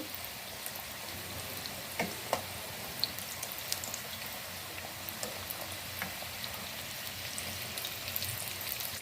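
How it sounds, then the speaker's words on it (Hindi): Momos frying in oil on low heat, a soft steady sizzle with scattered faint crackles and pops, quiet and continuous. "अब इसको हम दूसरी साइड से फ्राई करेंगे।"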